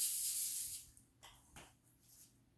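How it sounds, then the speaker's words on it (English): A steady hiss of cooking spray into a pan lasts under a second, then stops, followed by a few soft clicks and shuffles nearby. "So let's go ahead and spray it."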